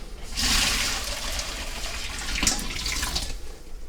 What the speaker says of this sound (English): I'm going to drain the hot water in the sink